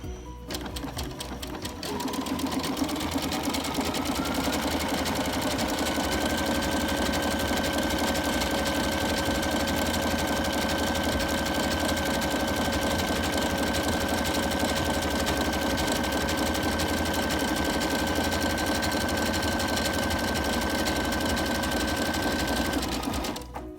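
A sewing machine stitches along the edges of outer fabric, running loud and steady with a rapid mechanical whir and a constant tone for over twenty seconds before stopping.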